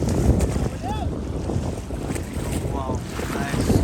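A fishing boat passes at sea off Munge beach in Konkan, its steady engine drone mixed with wind buffeting the microphone and the wash of waves, with a few faint bird-like chirps above.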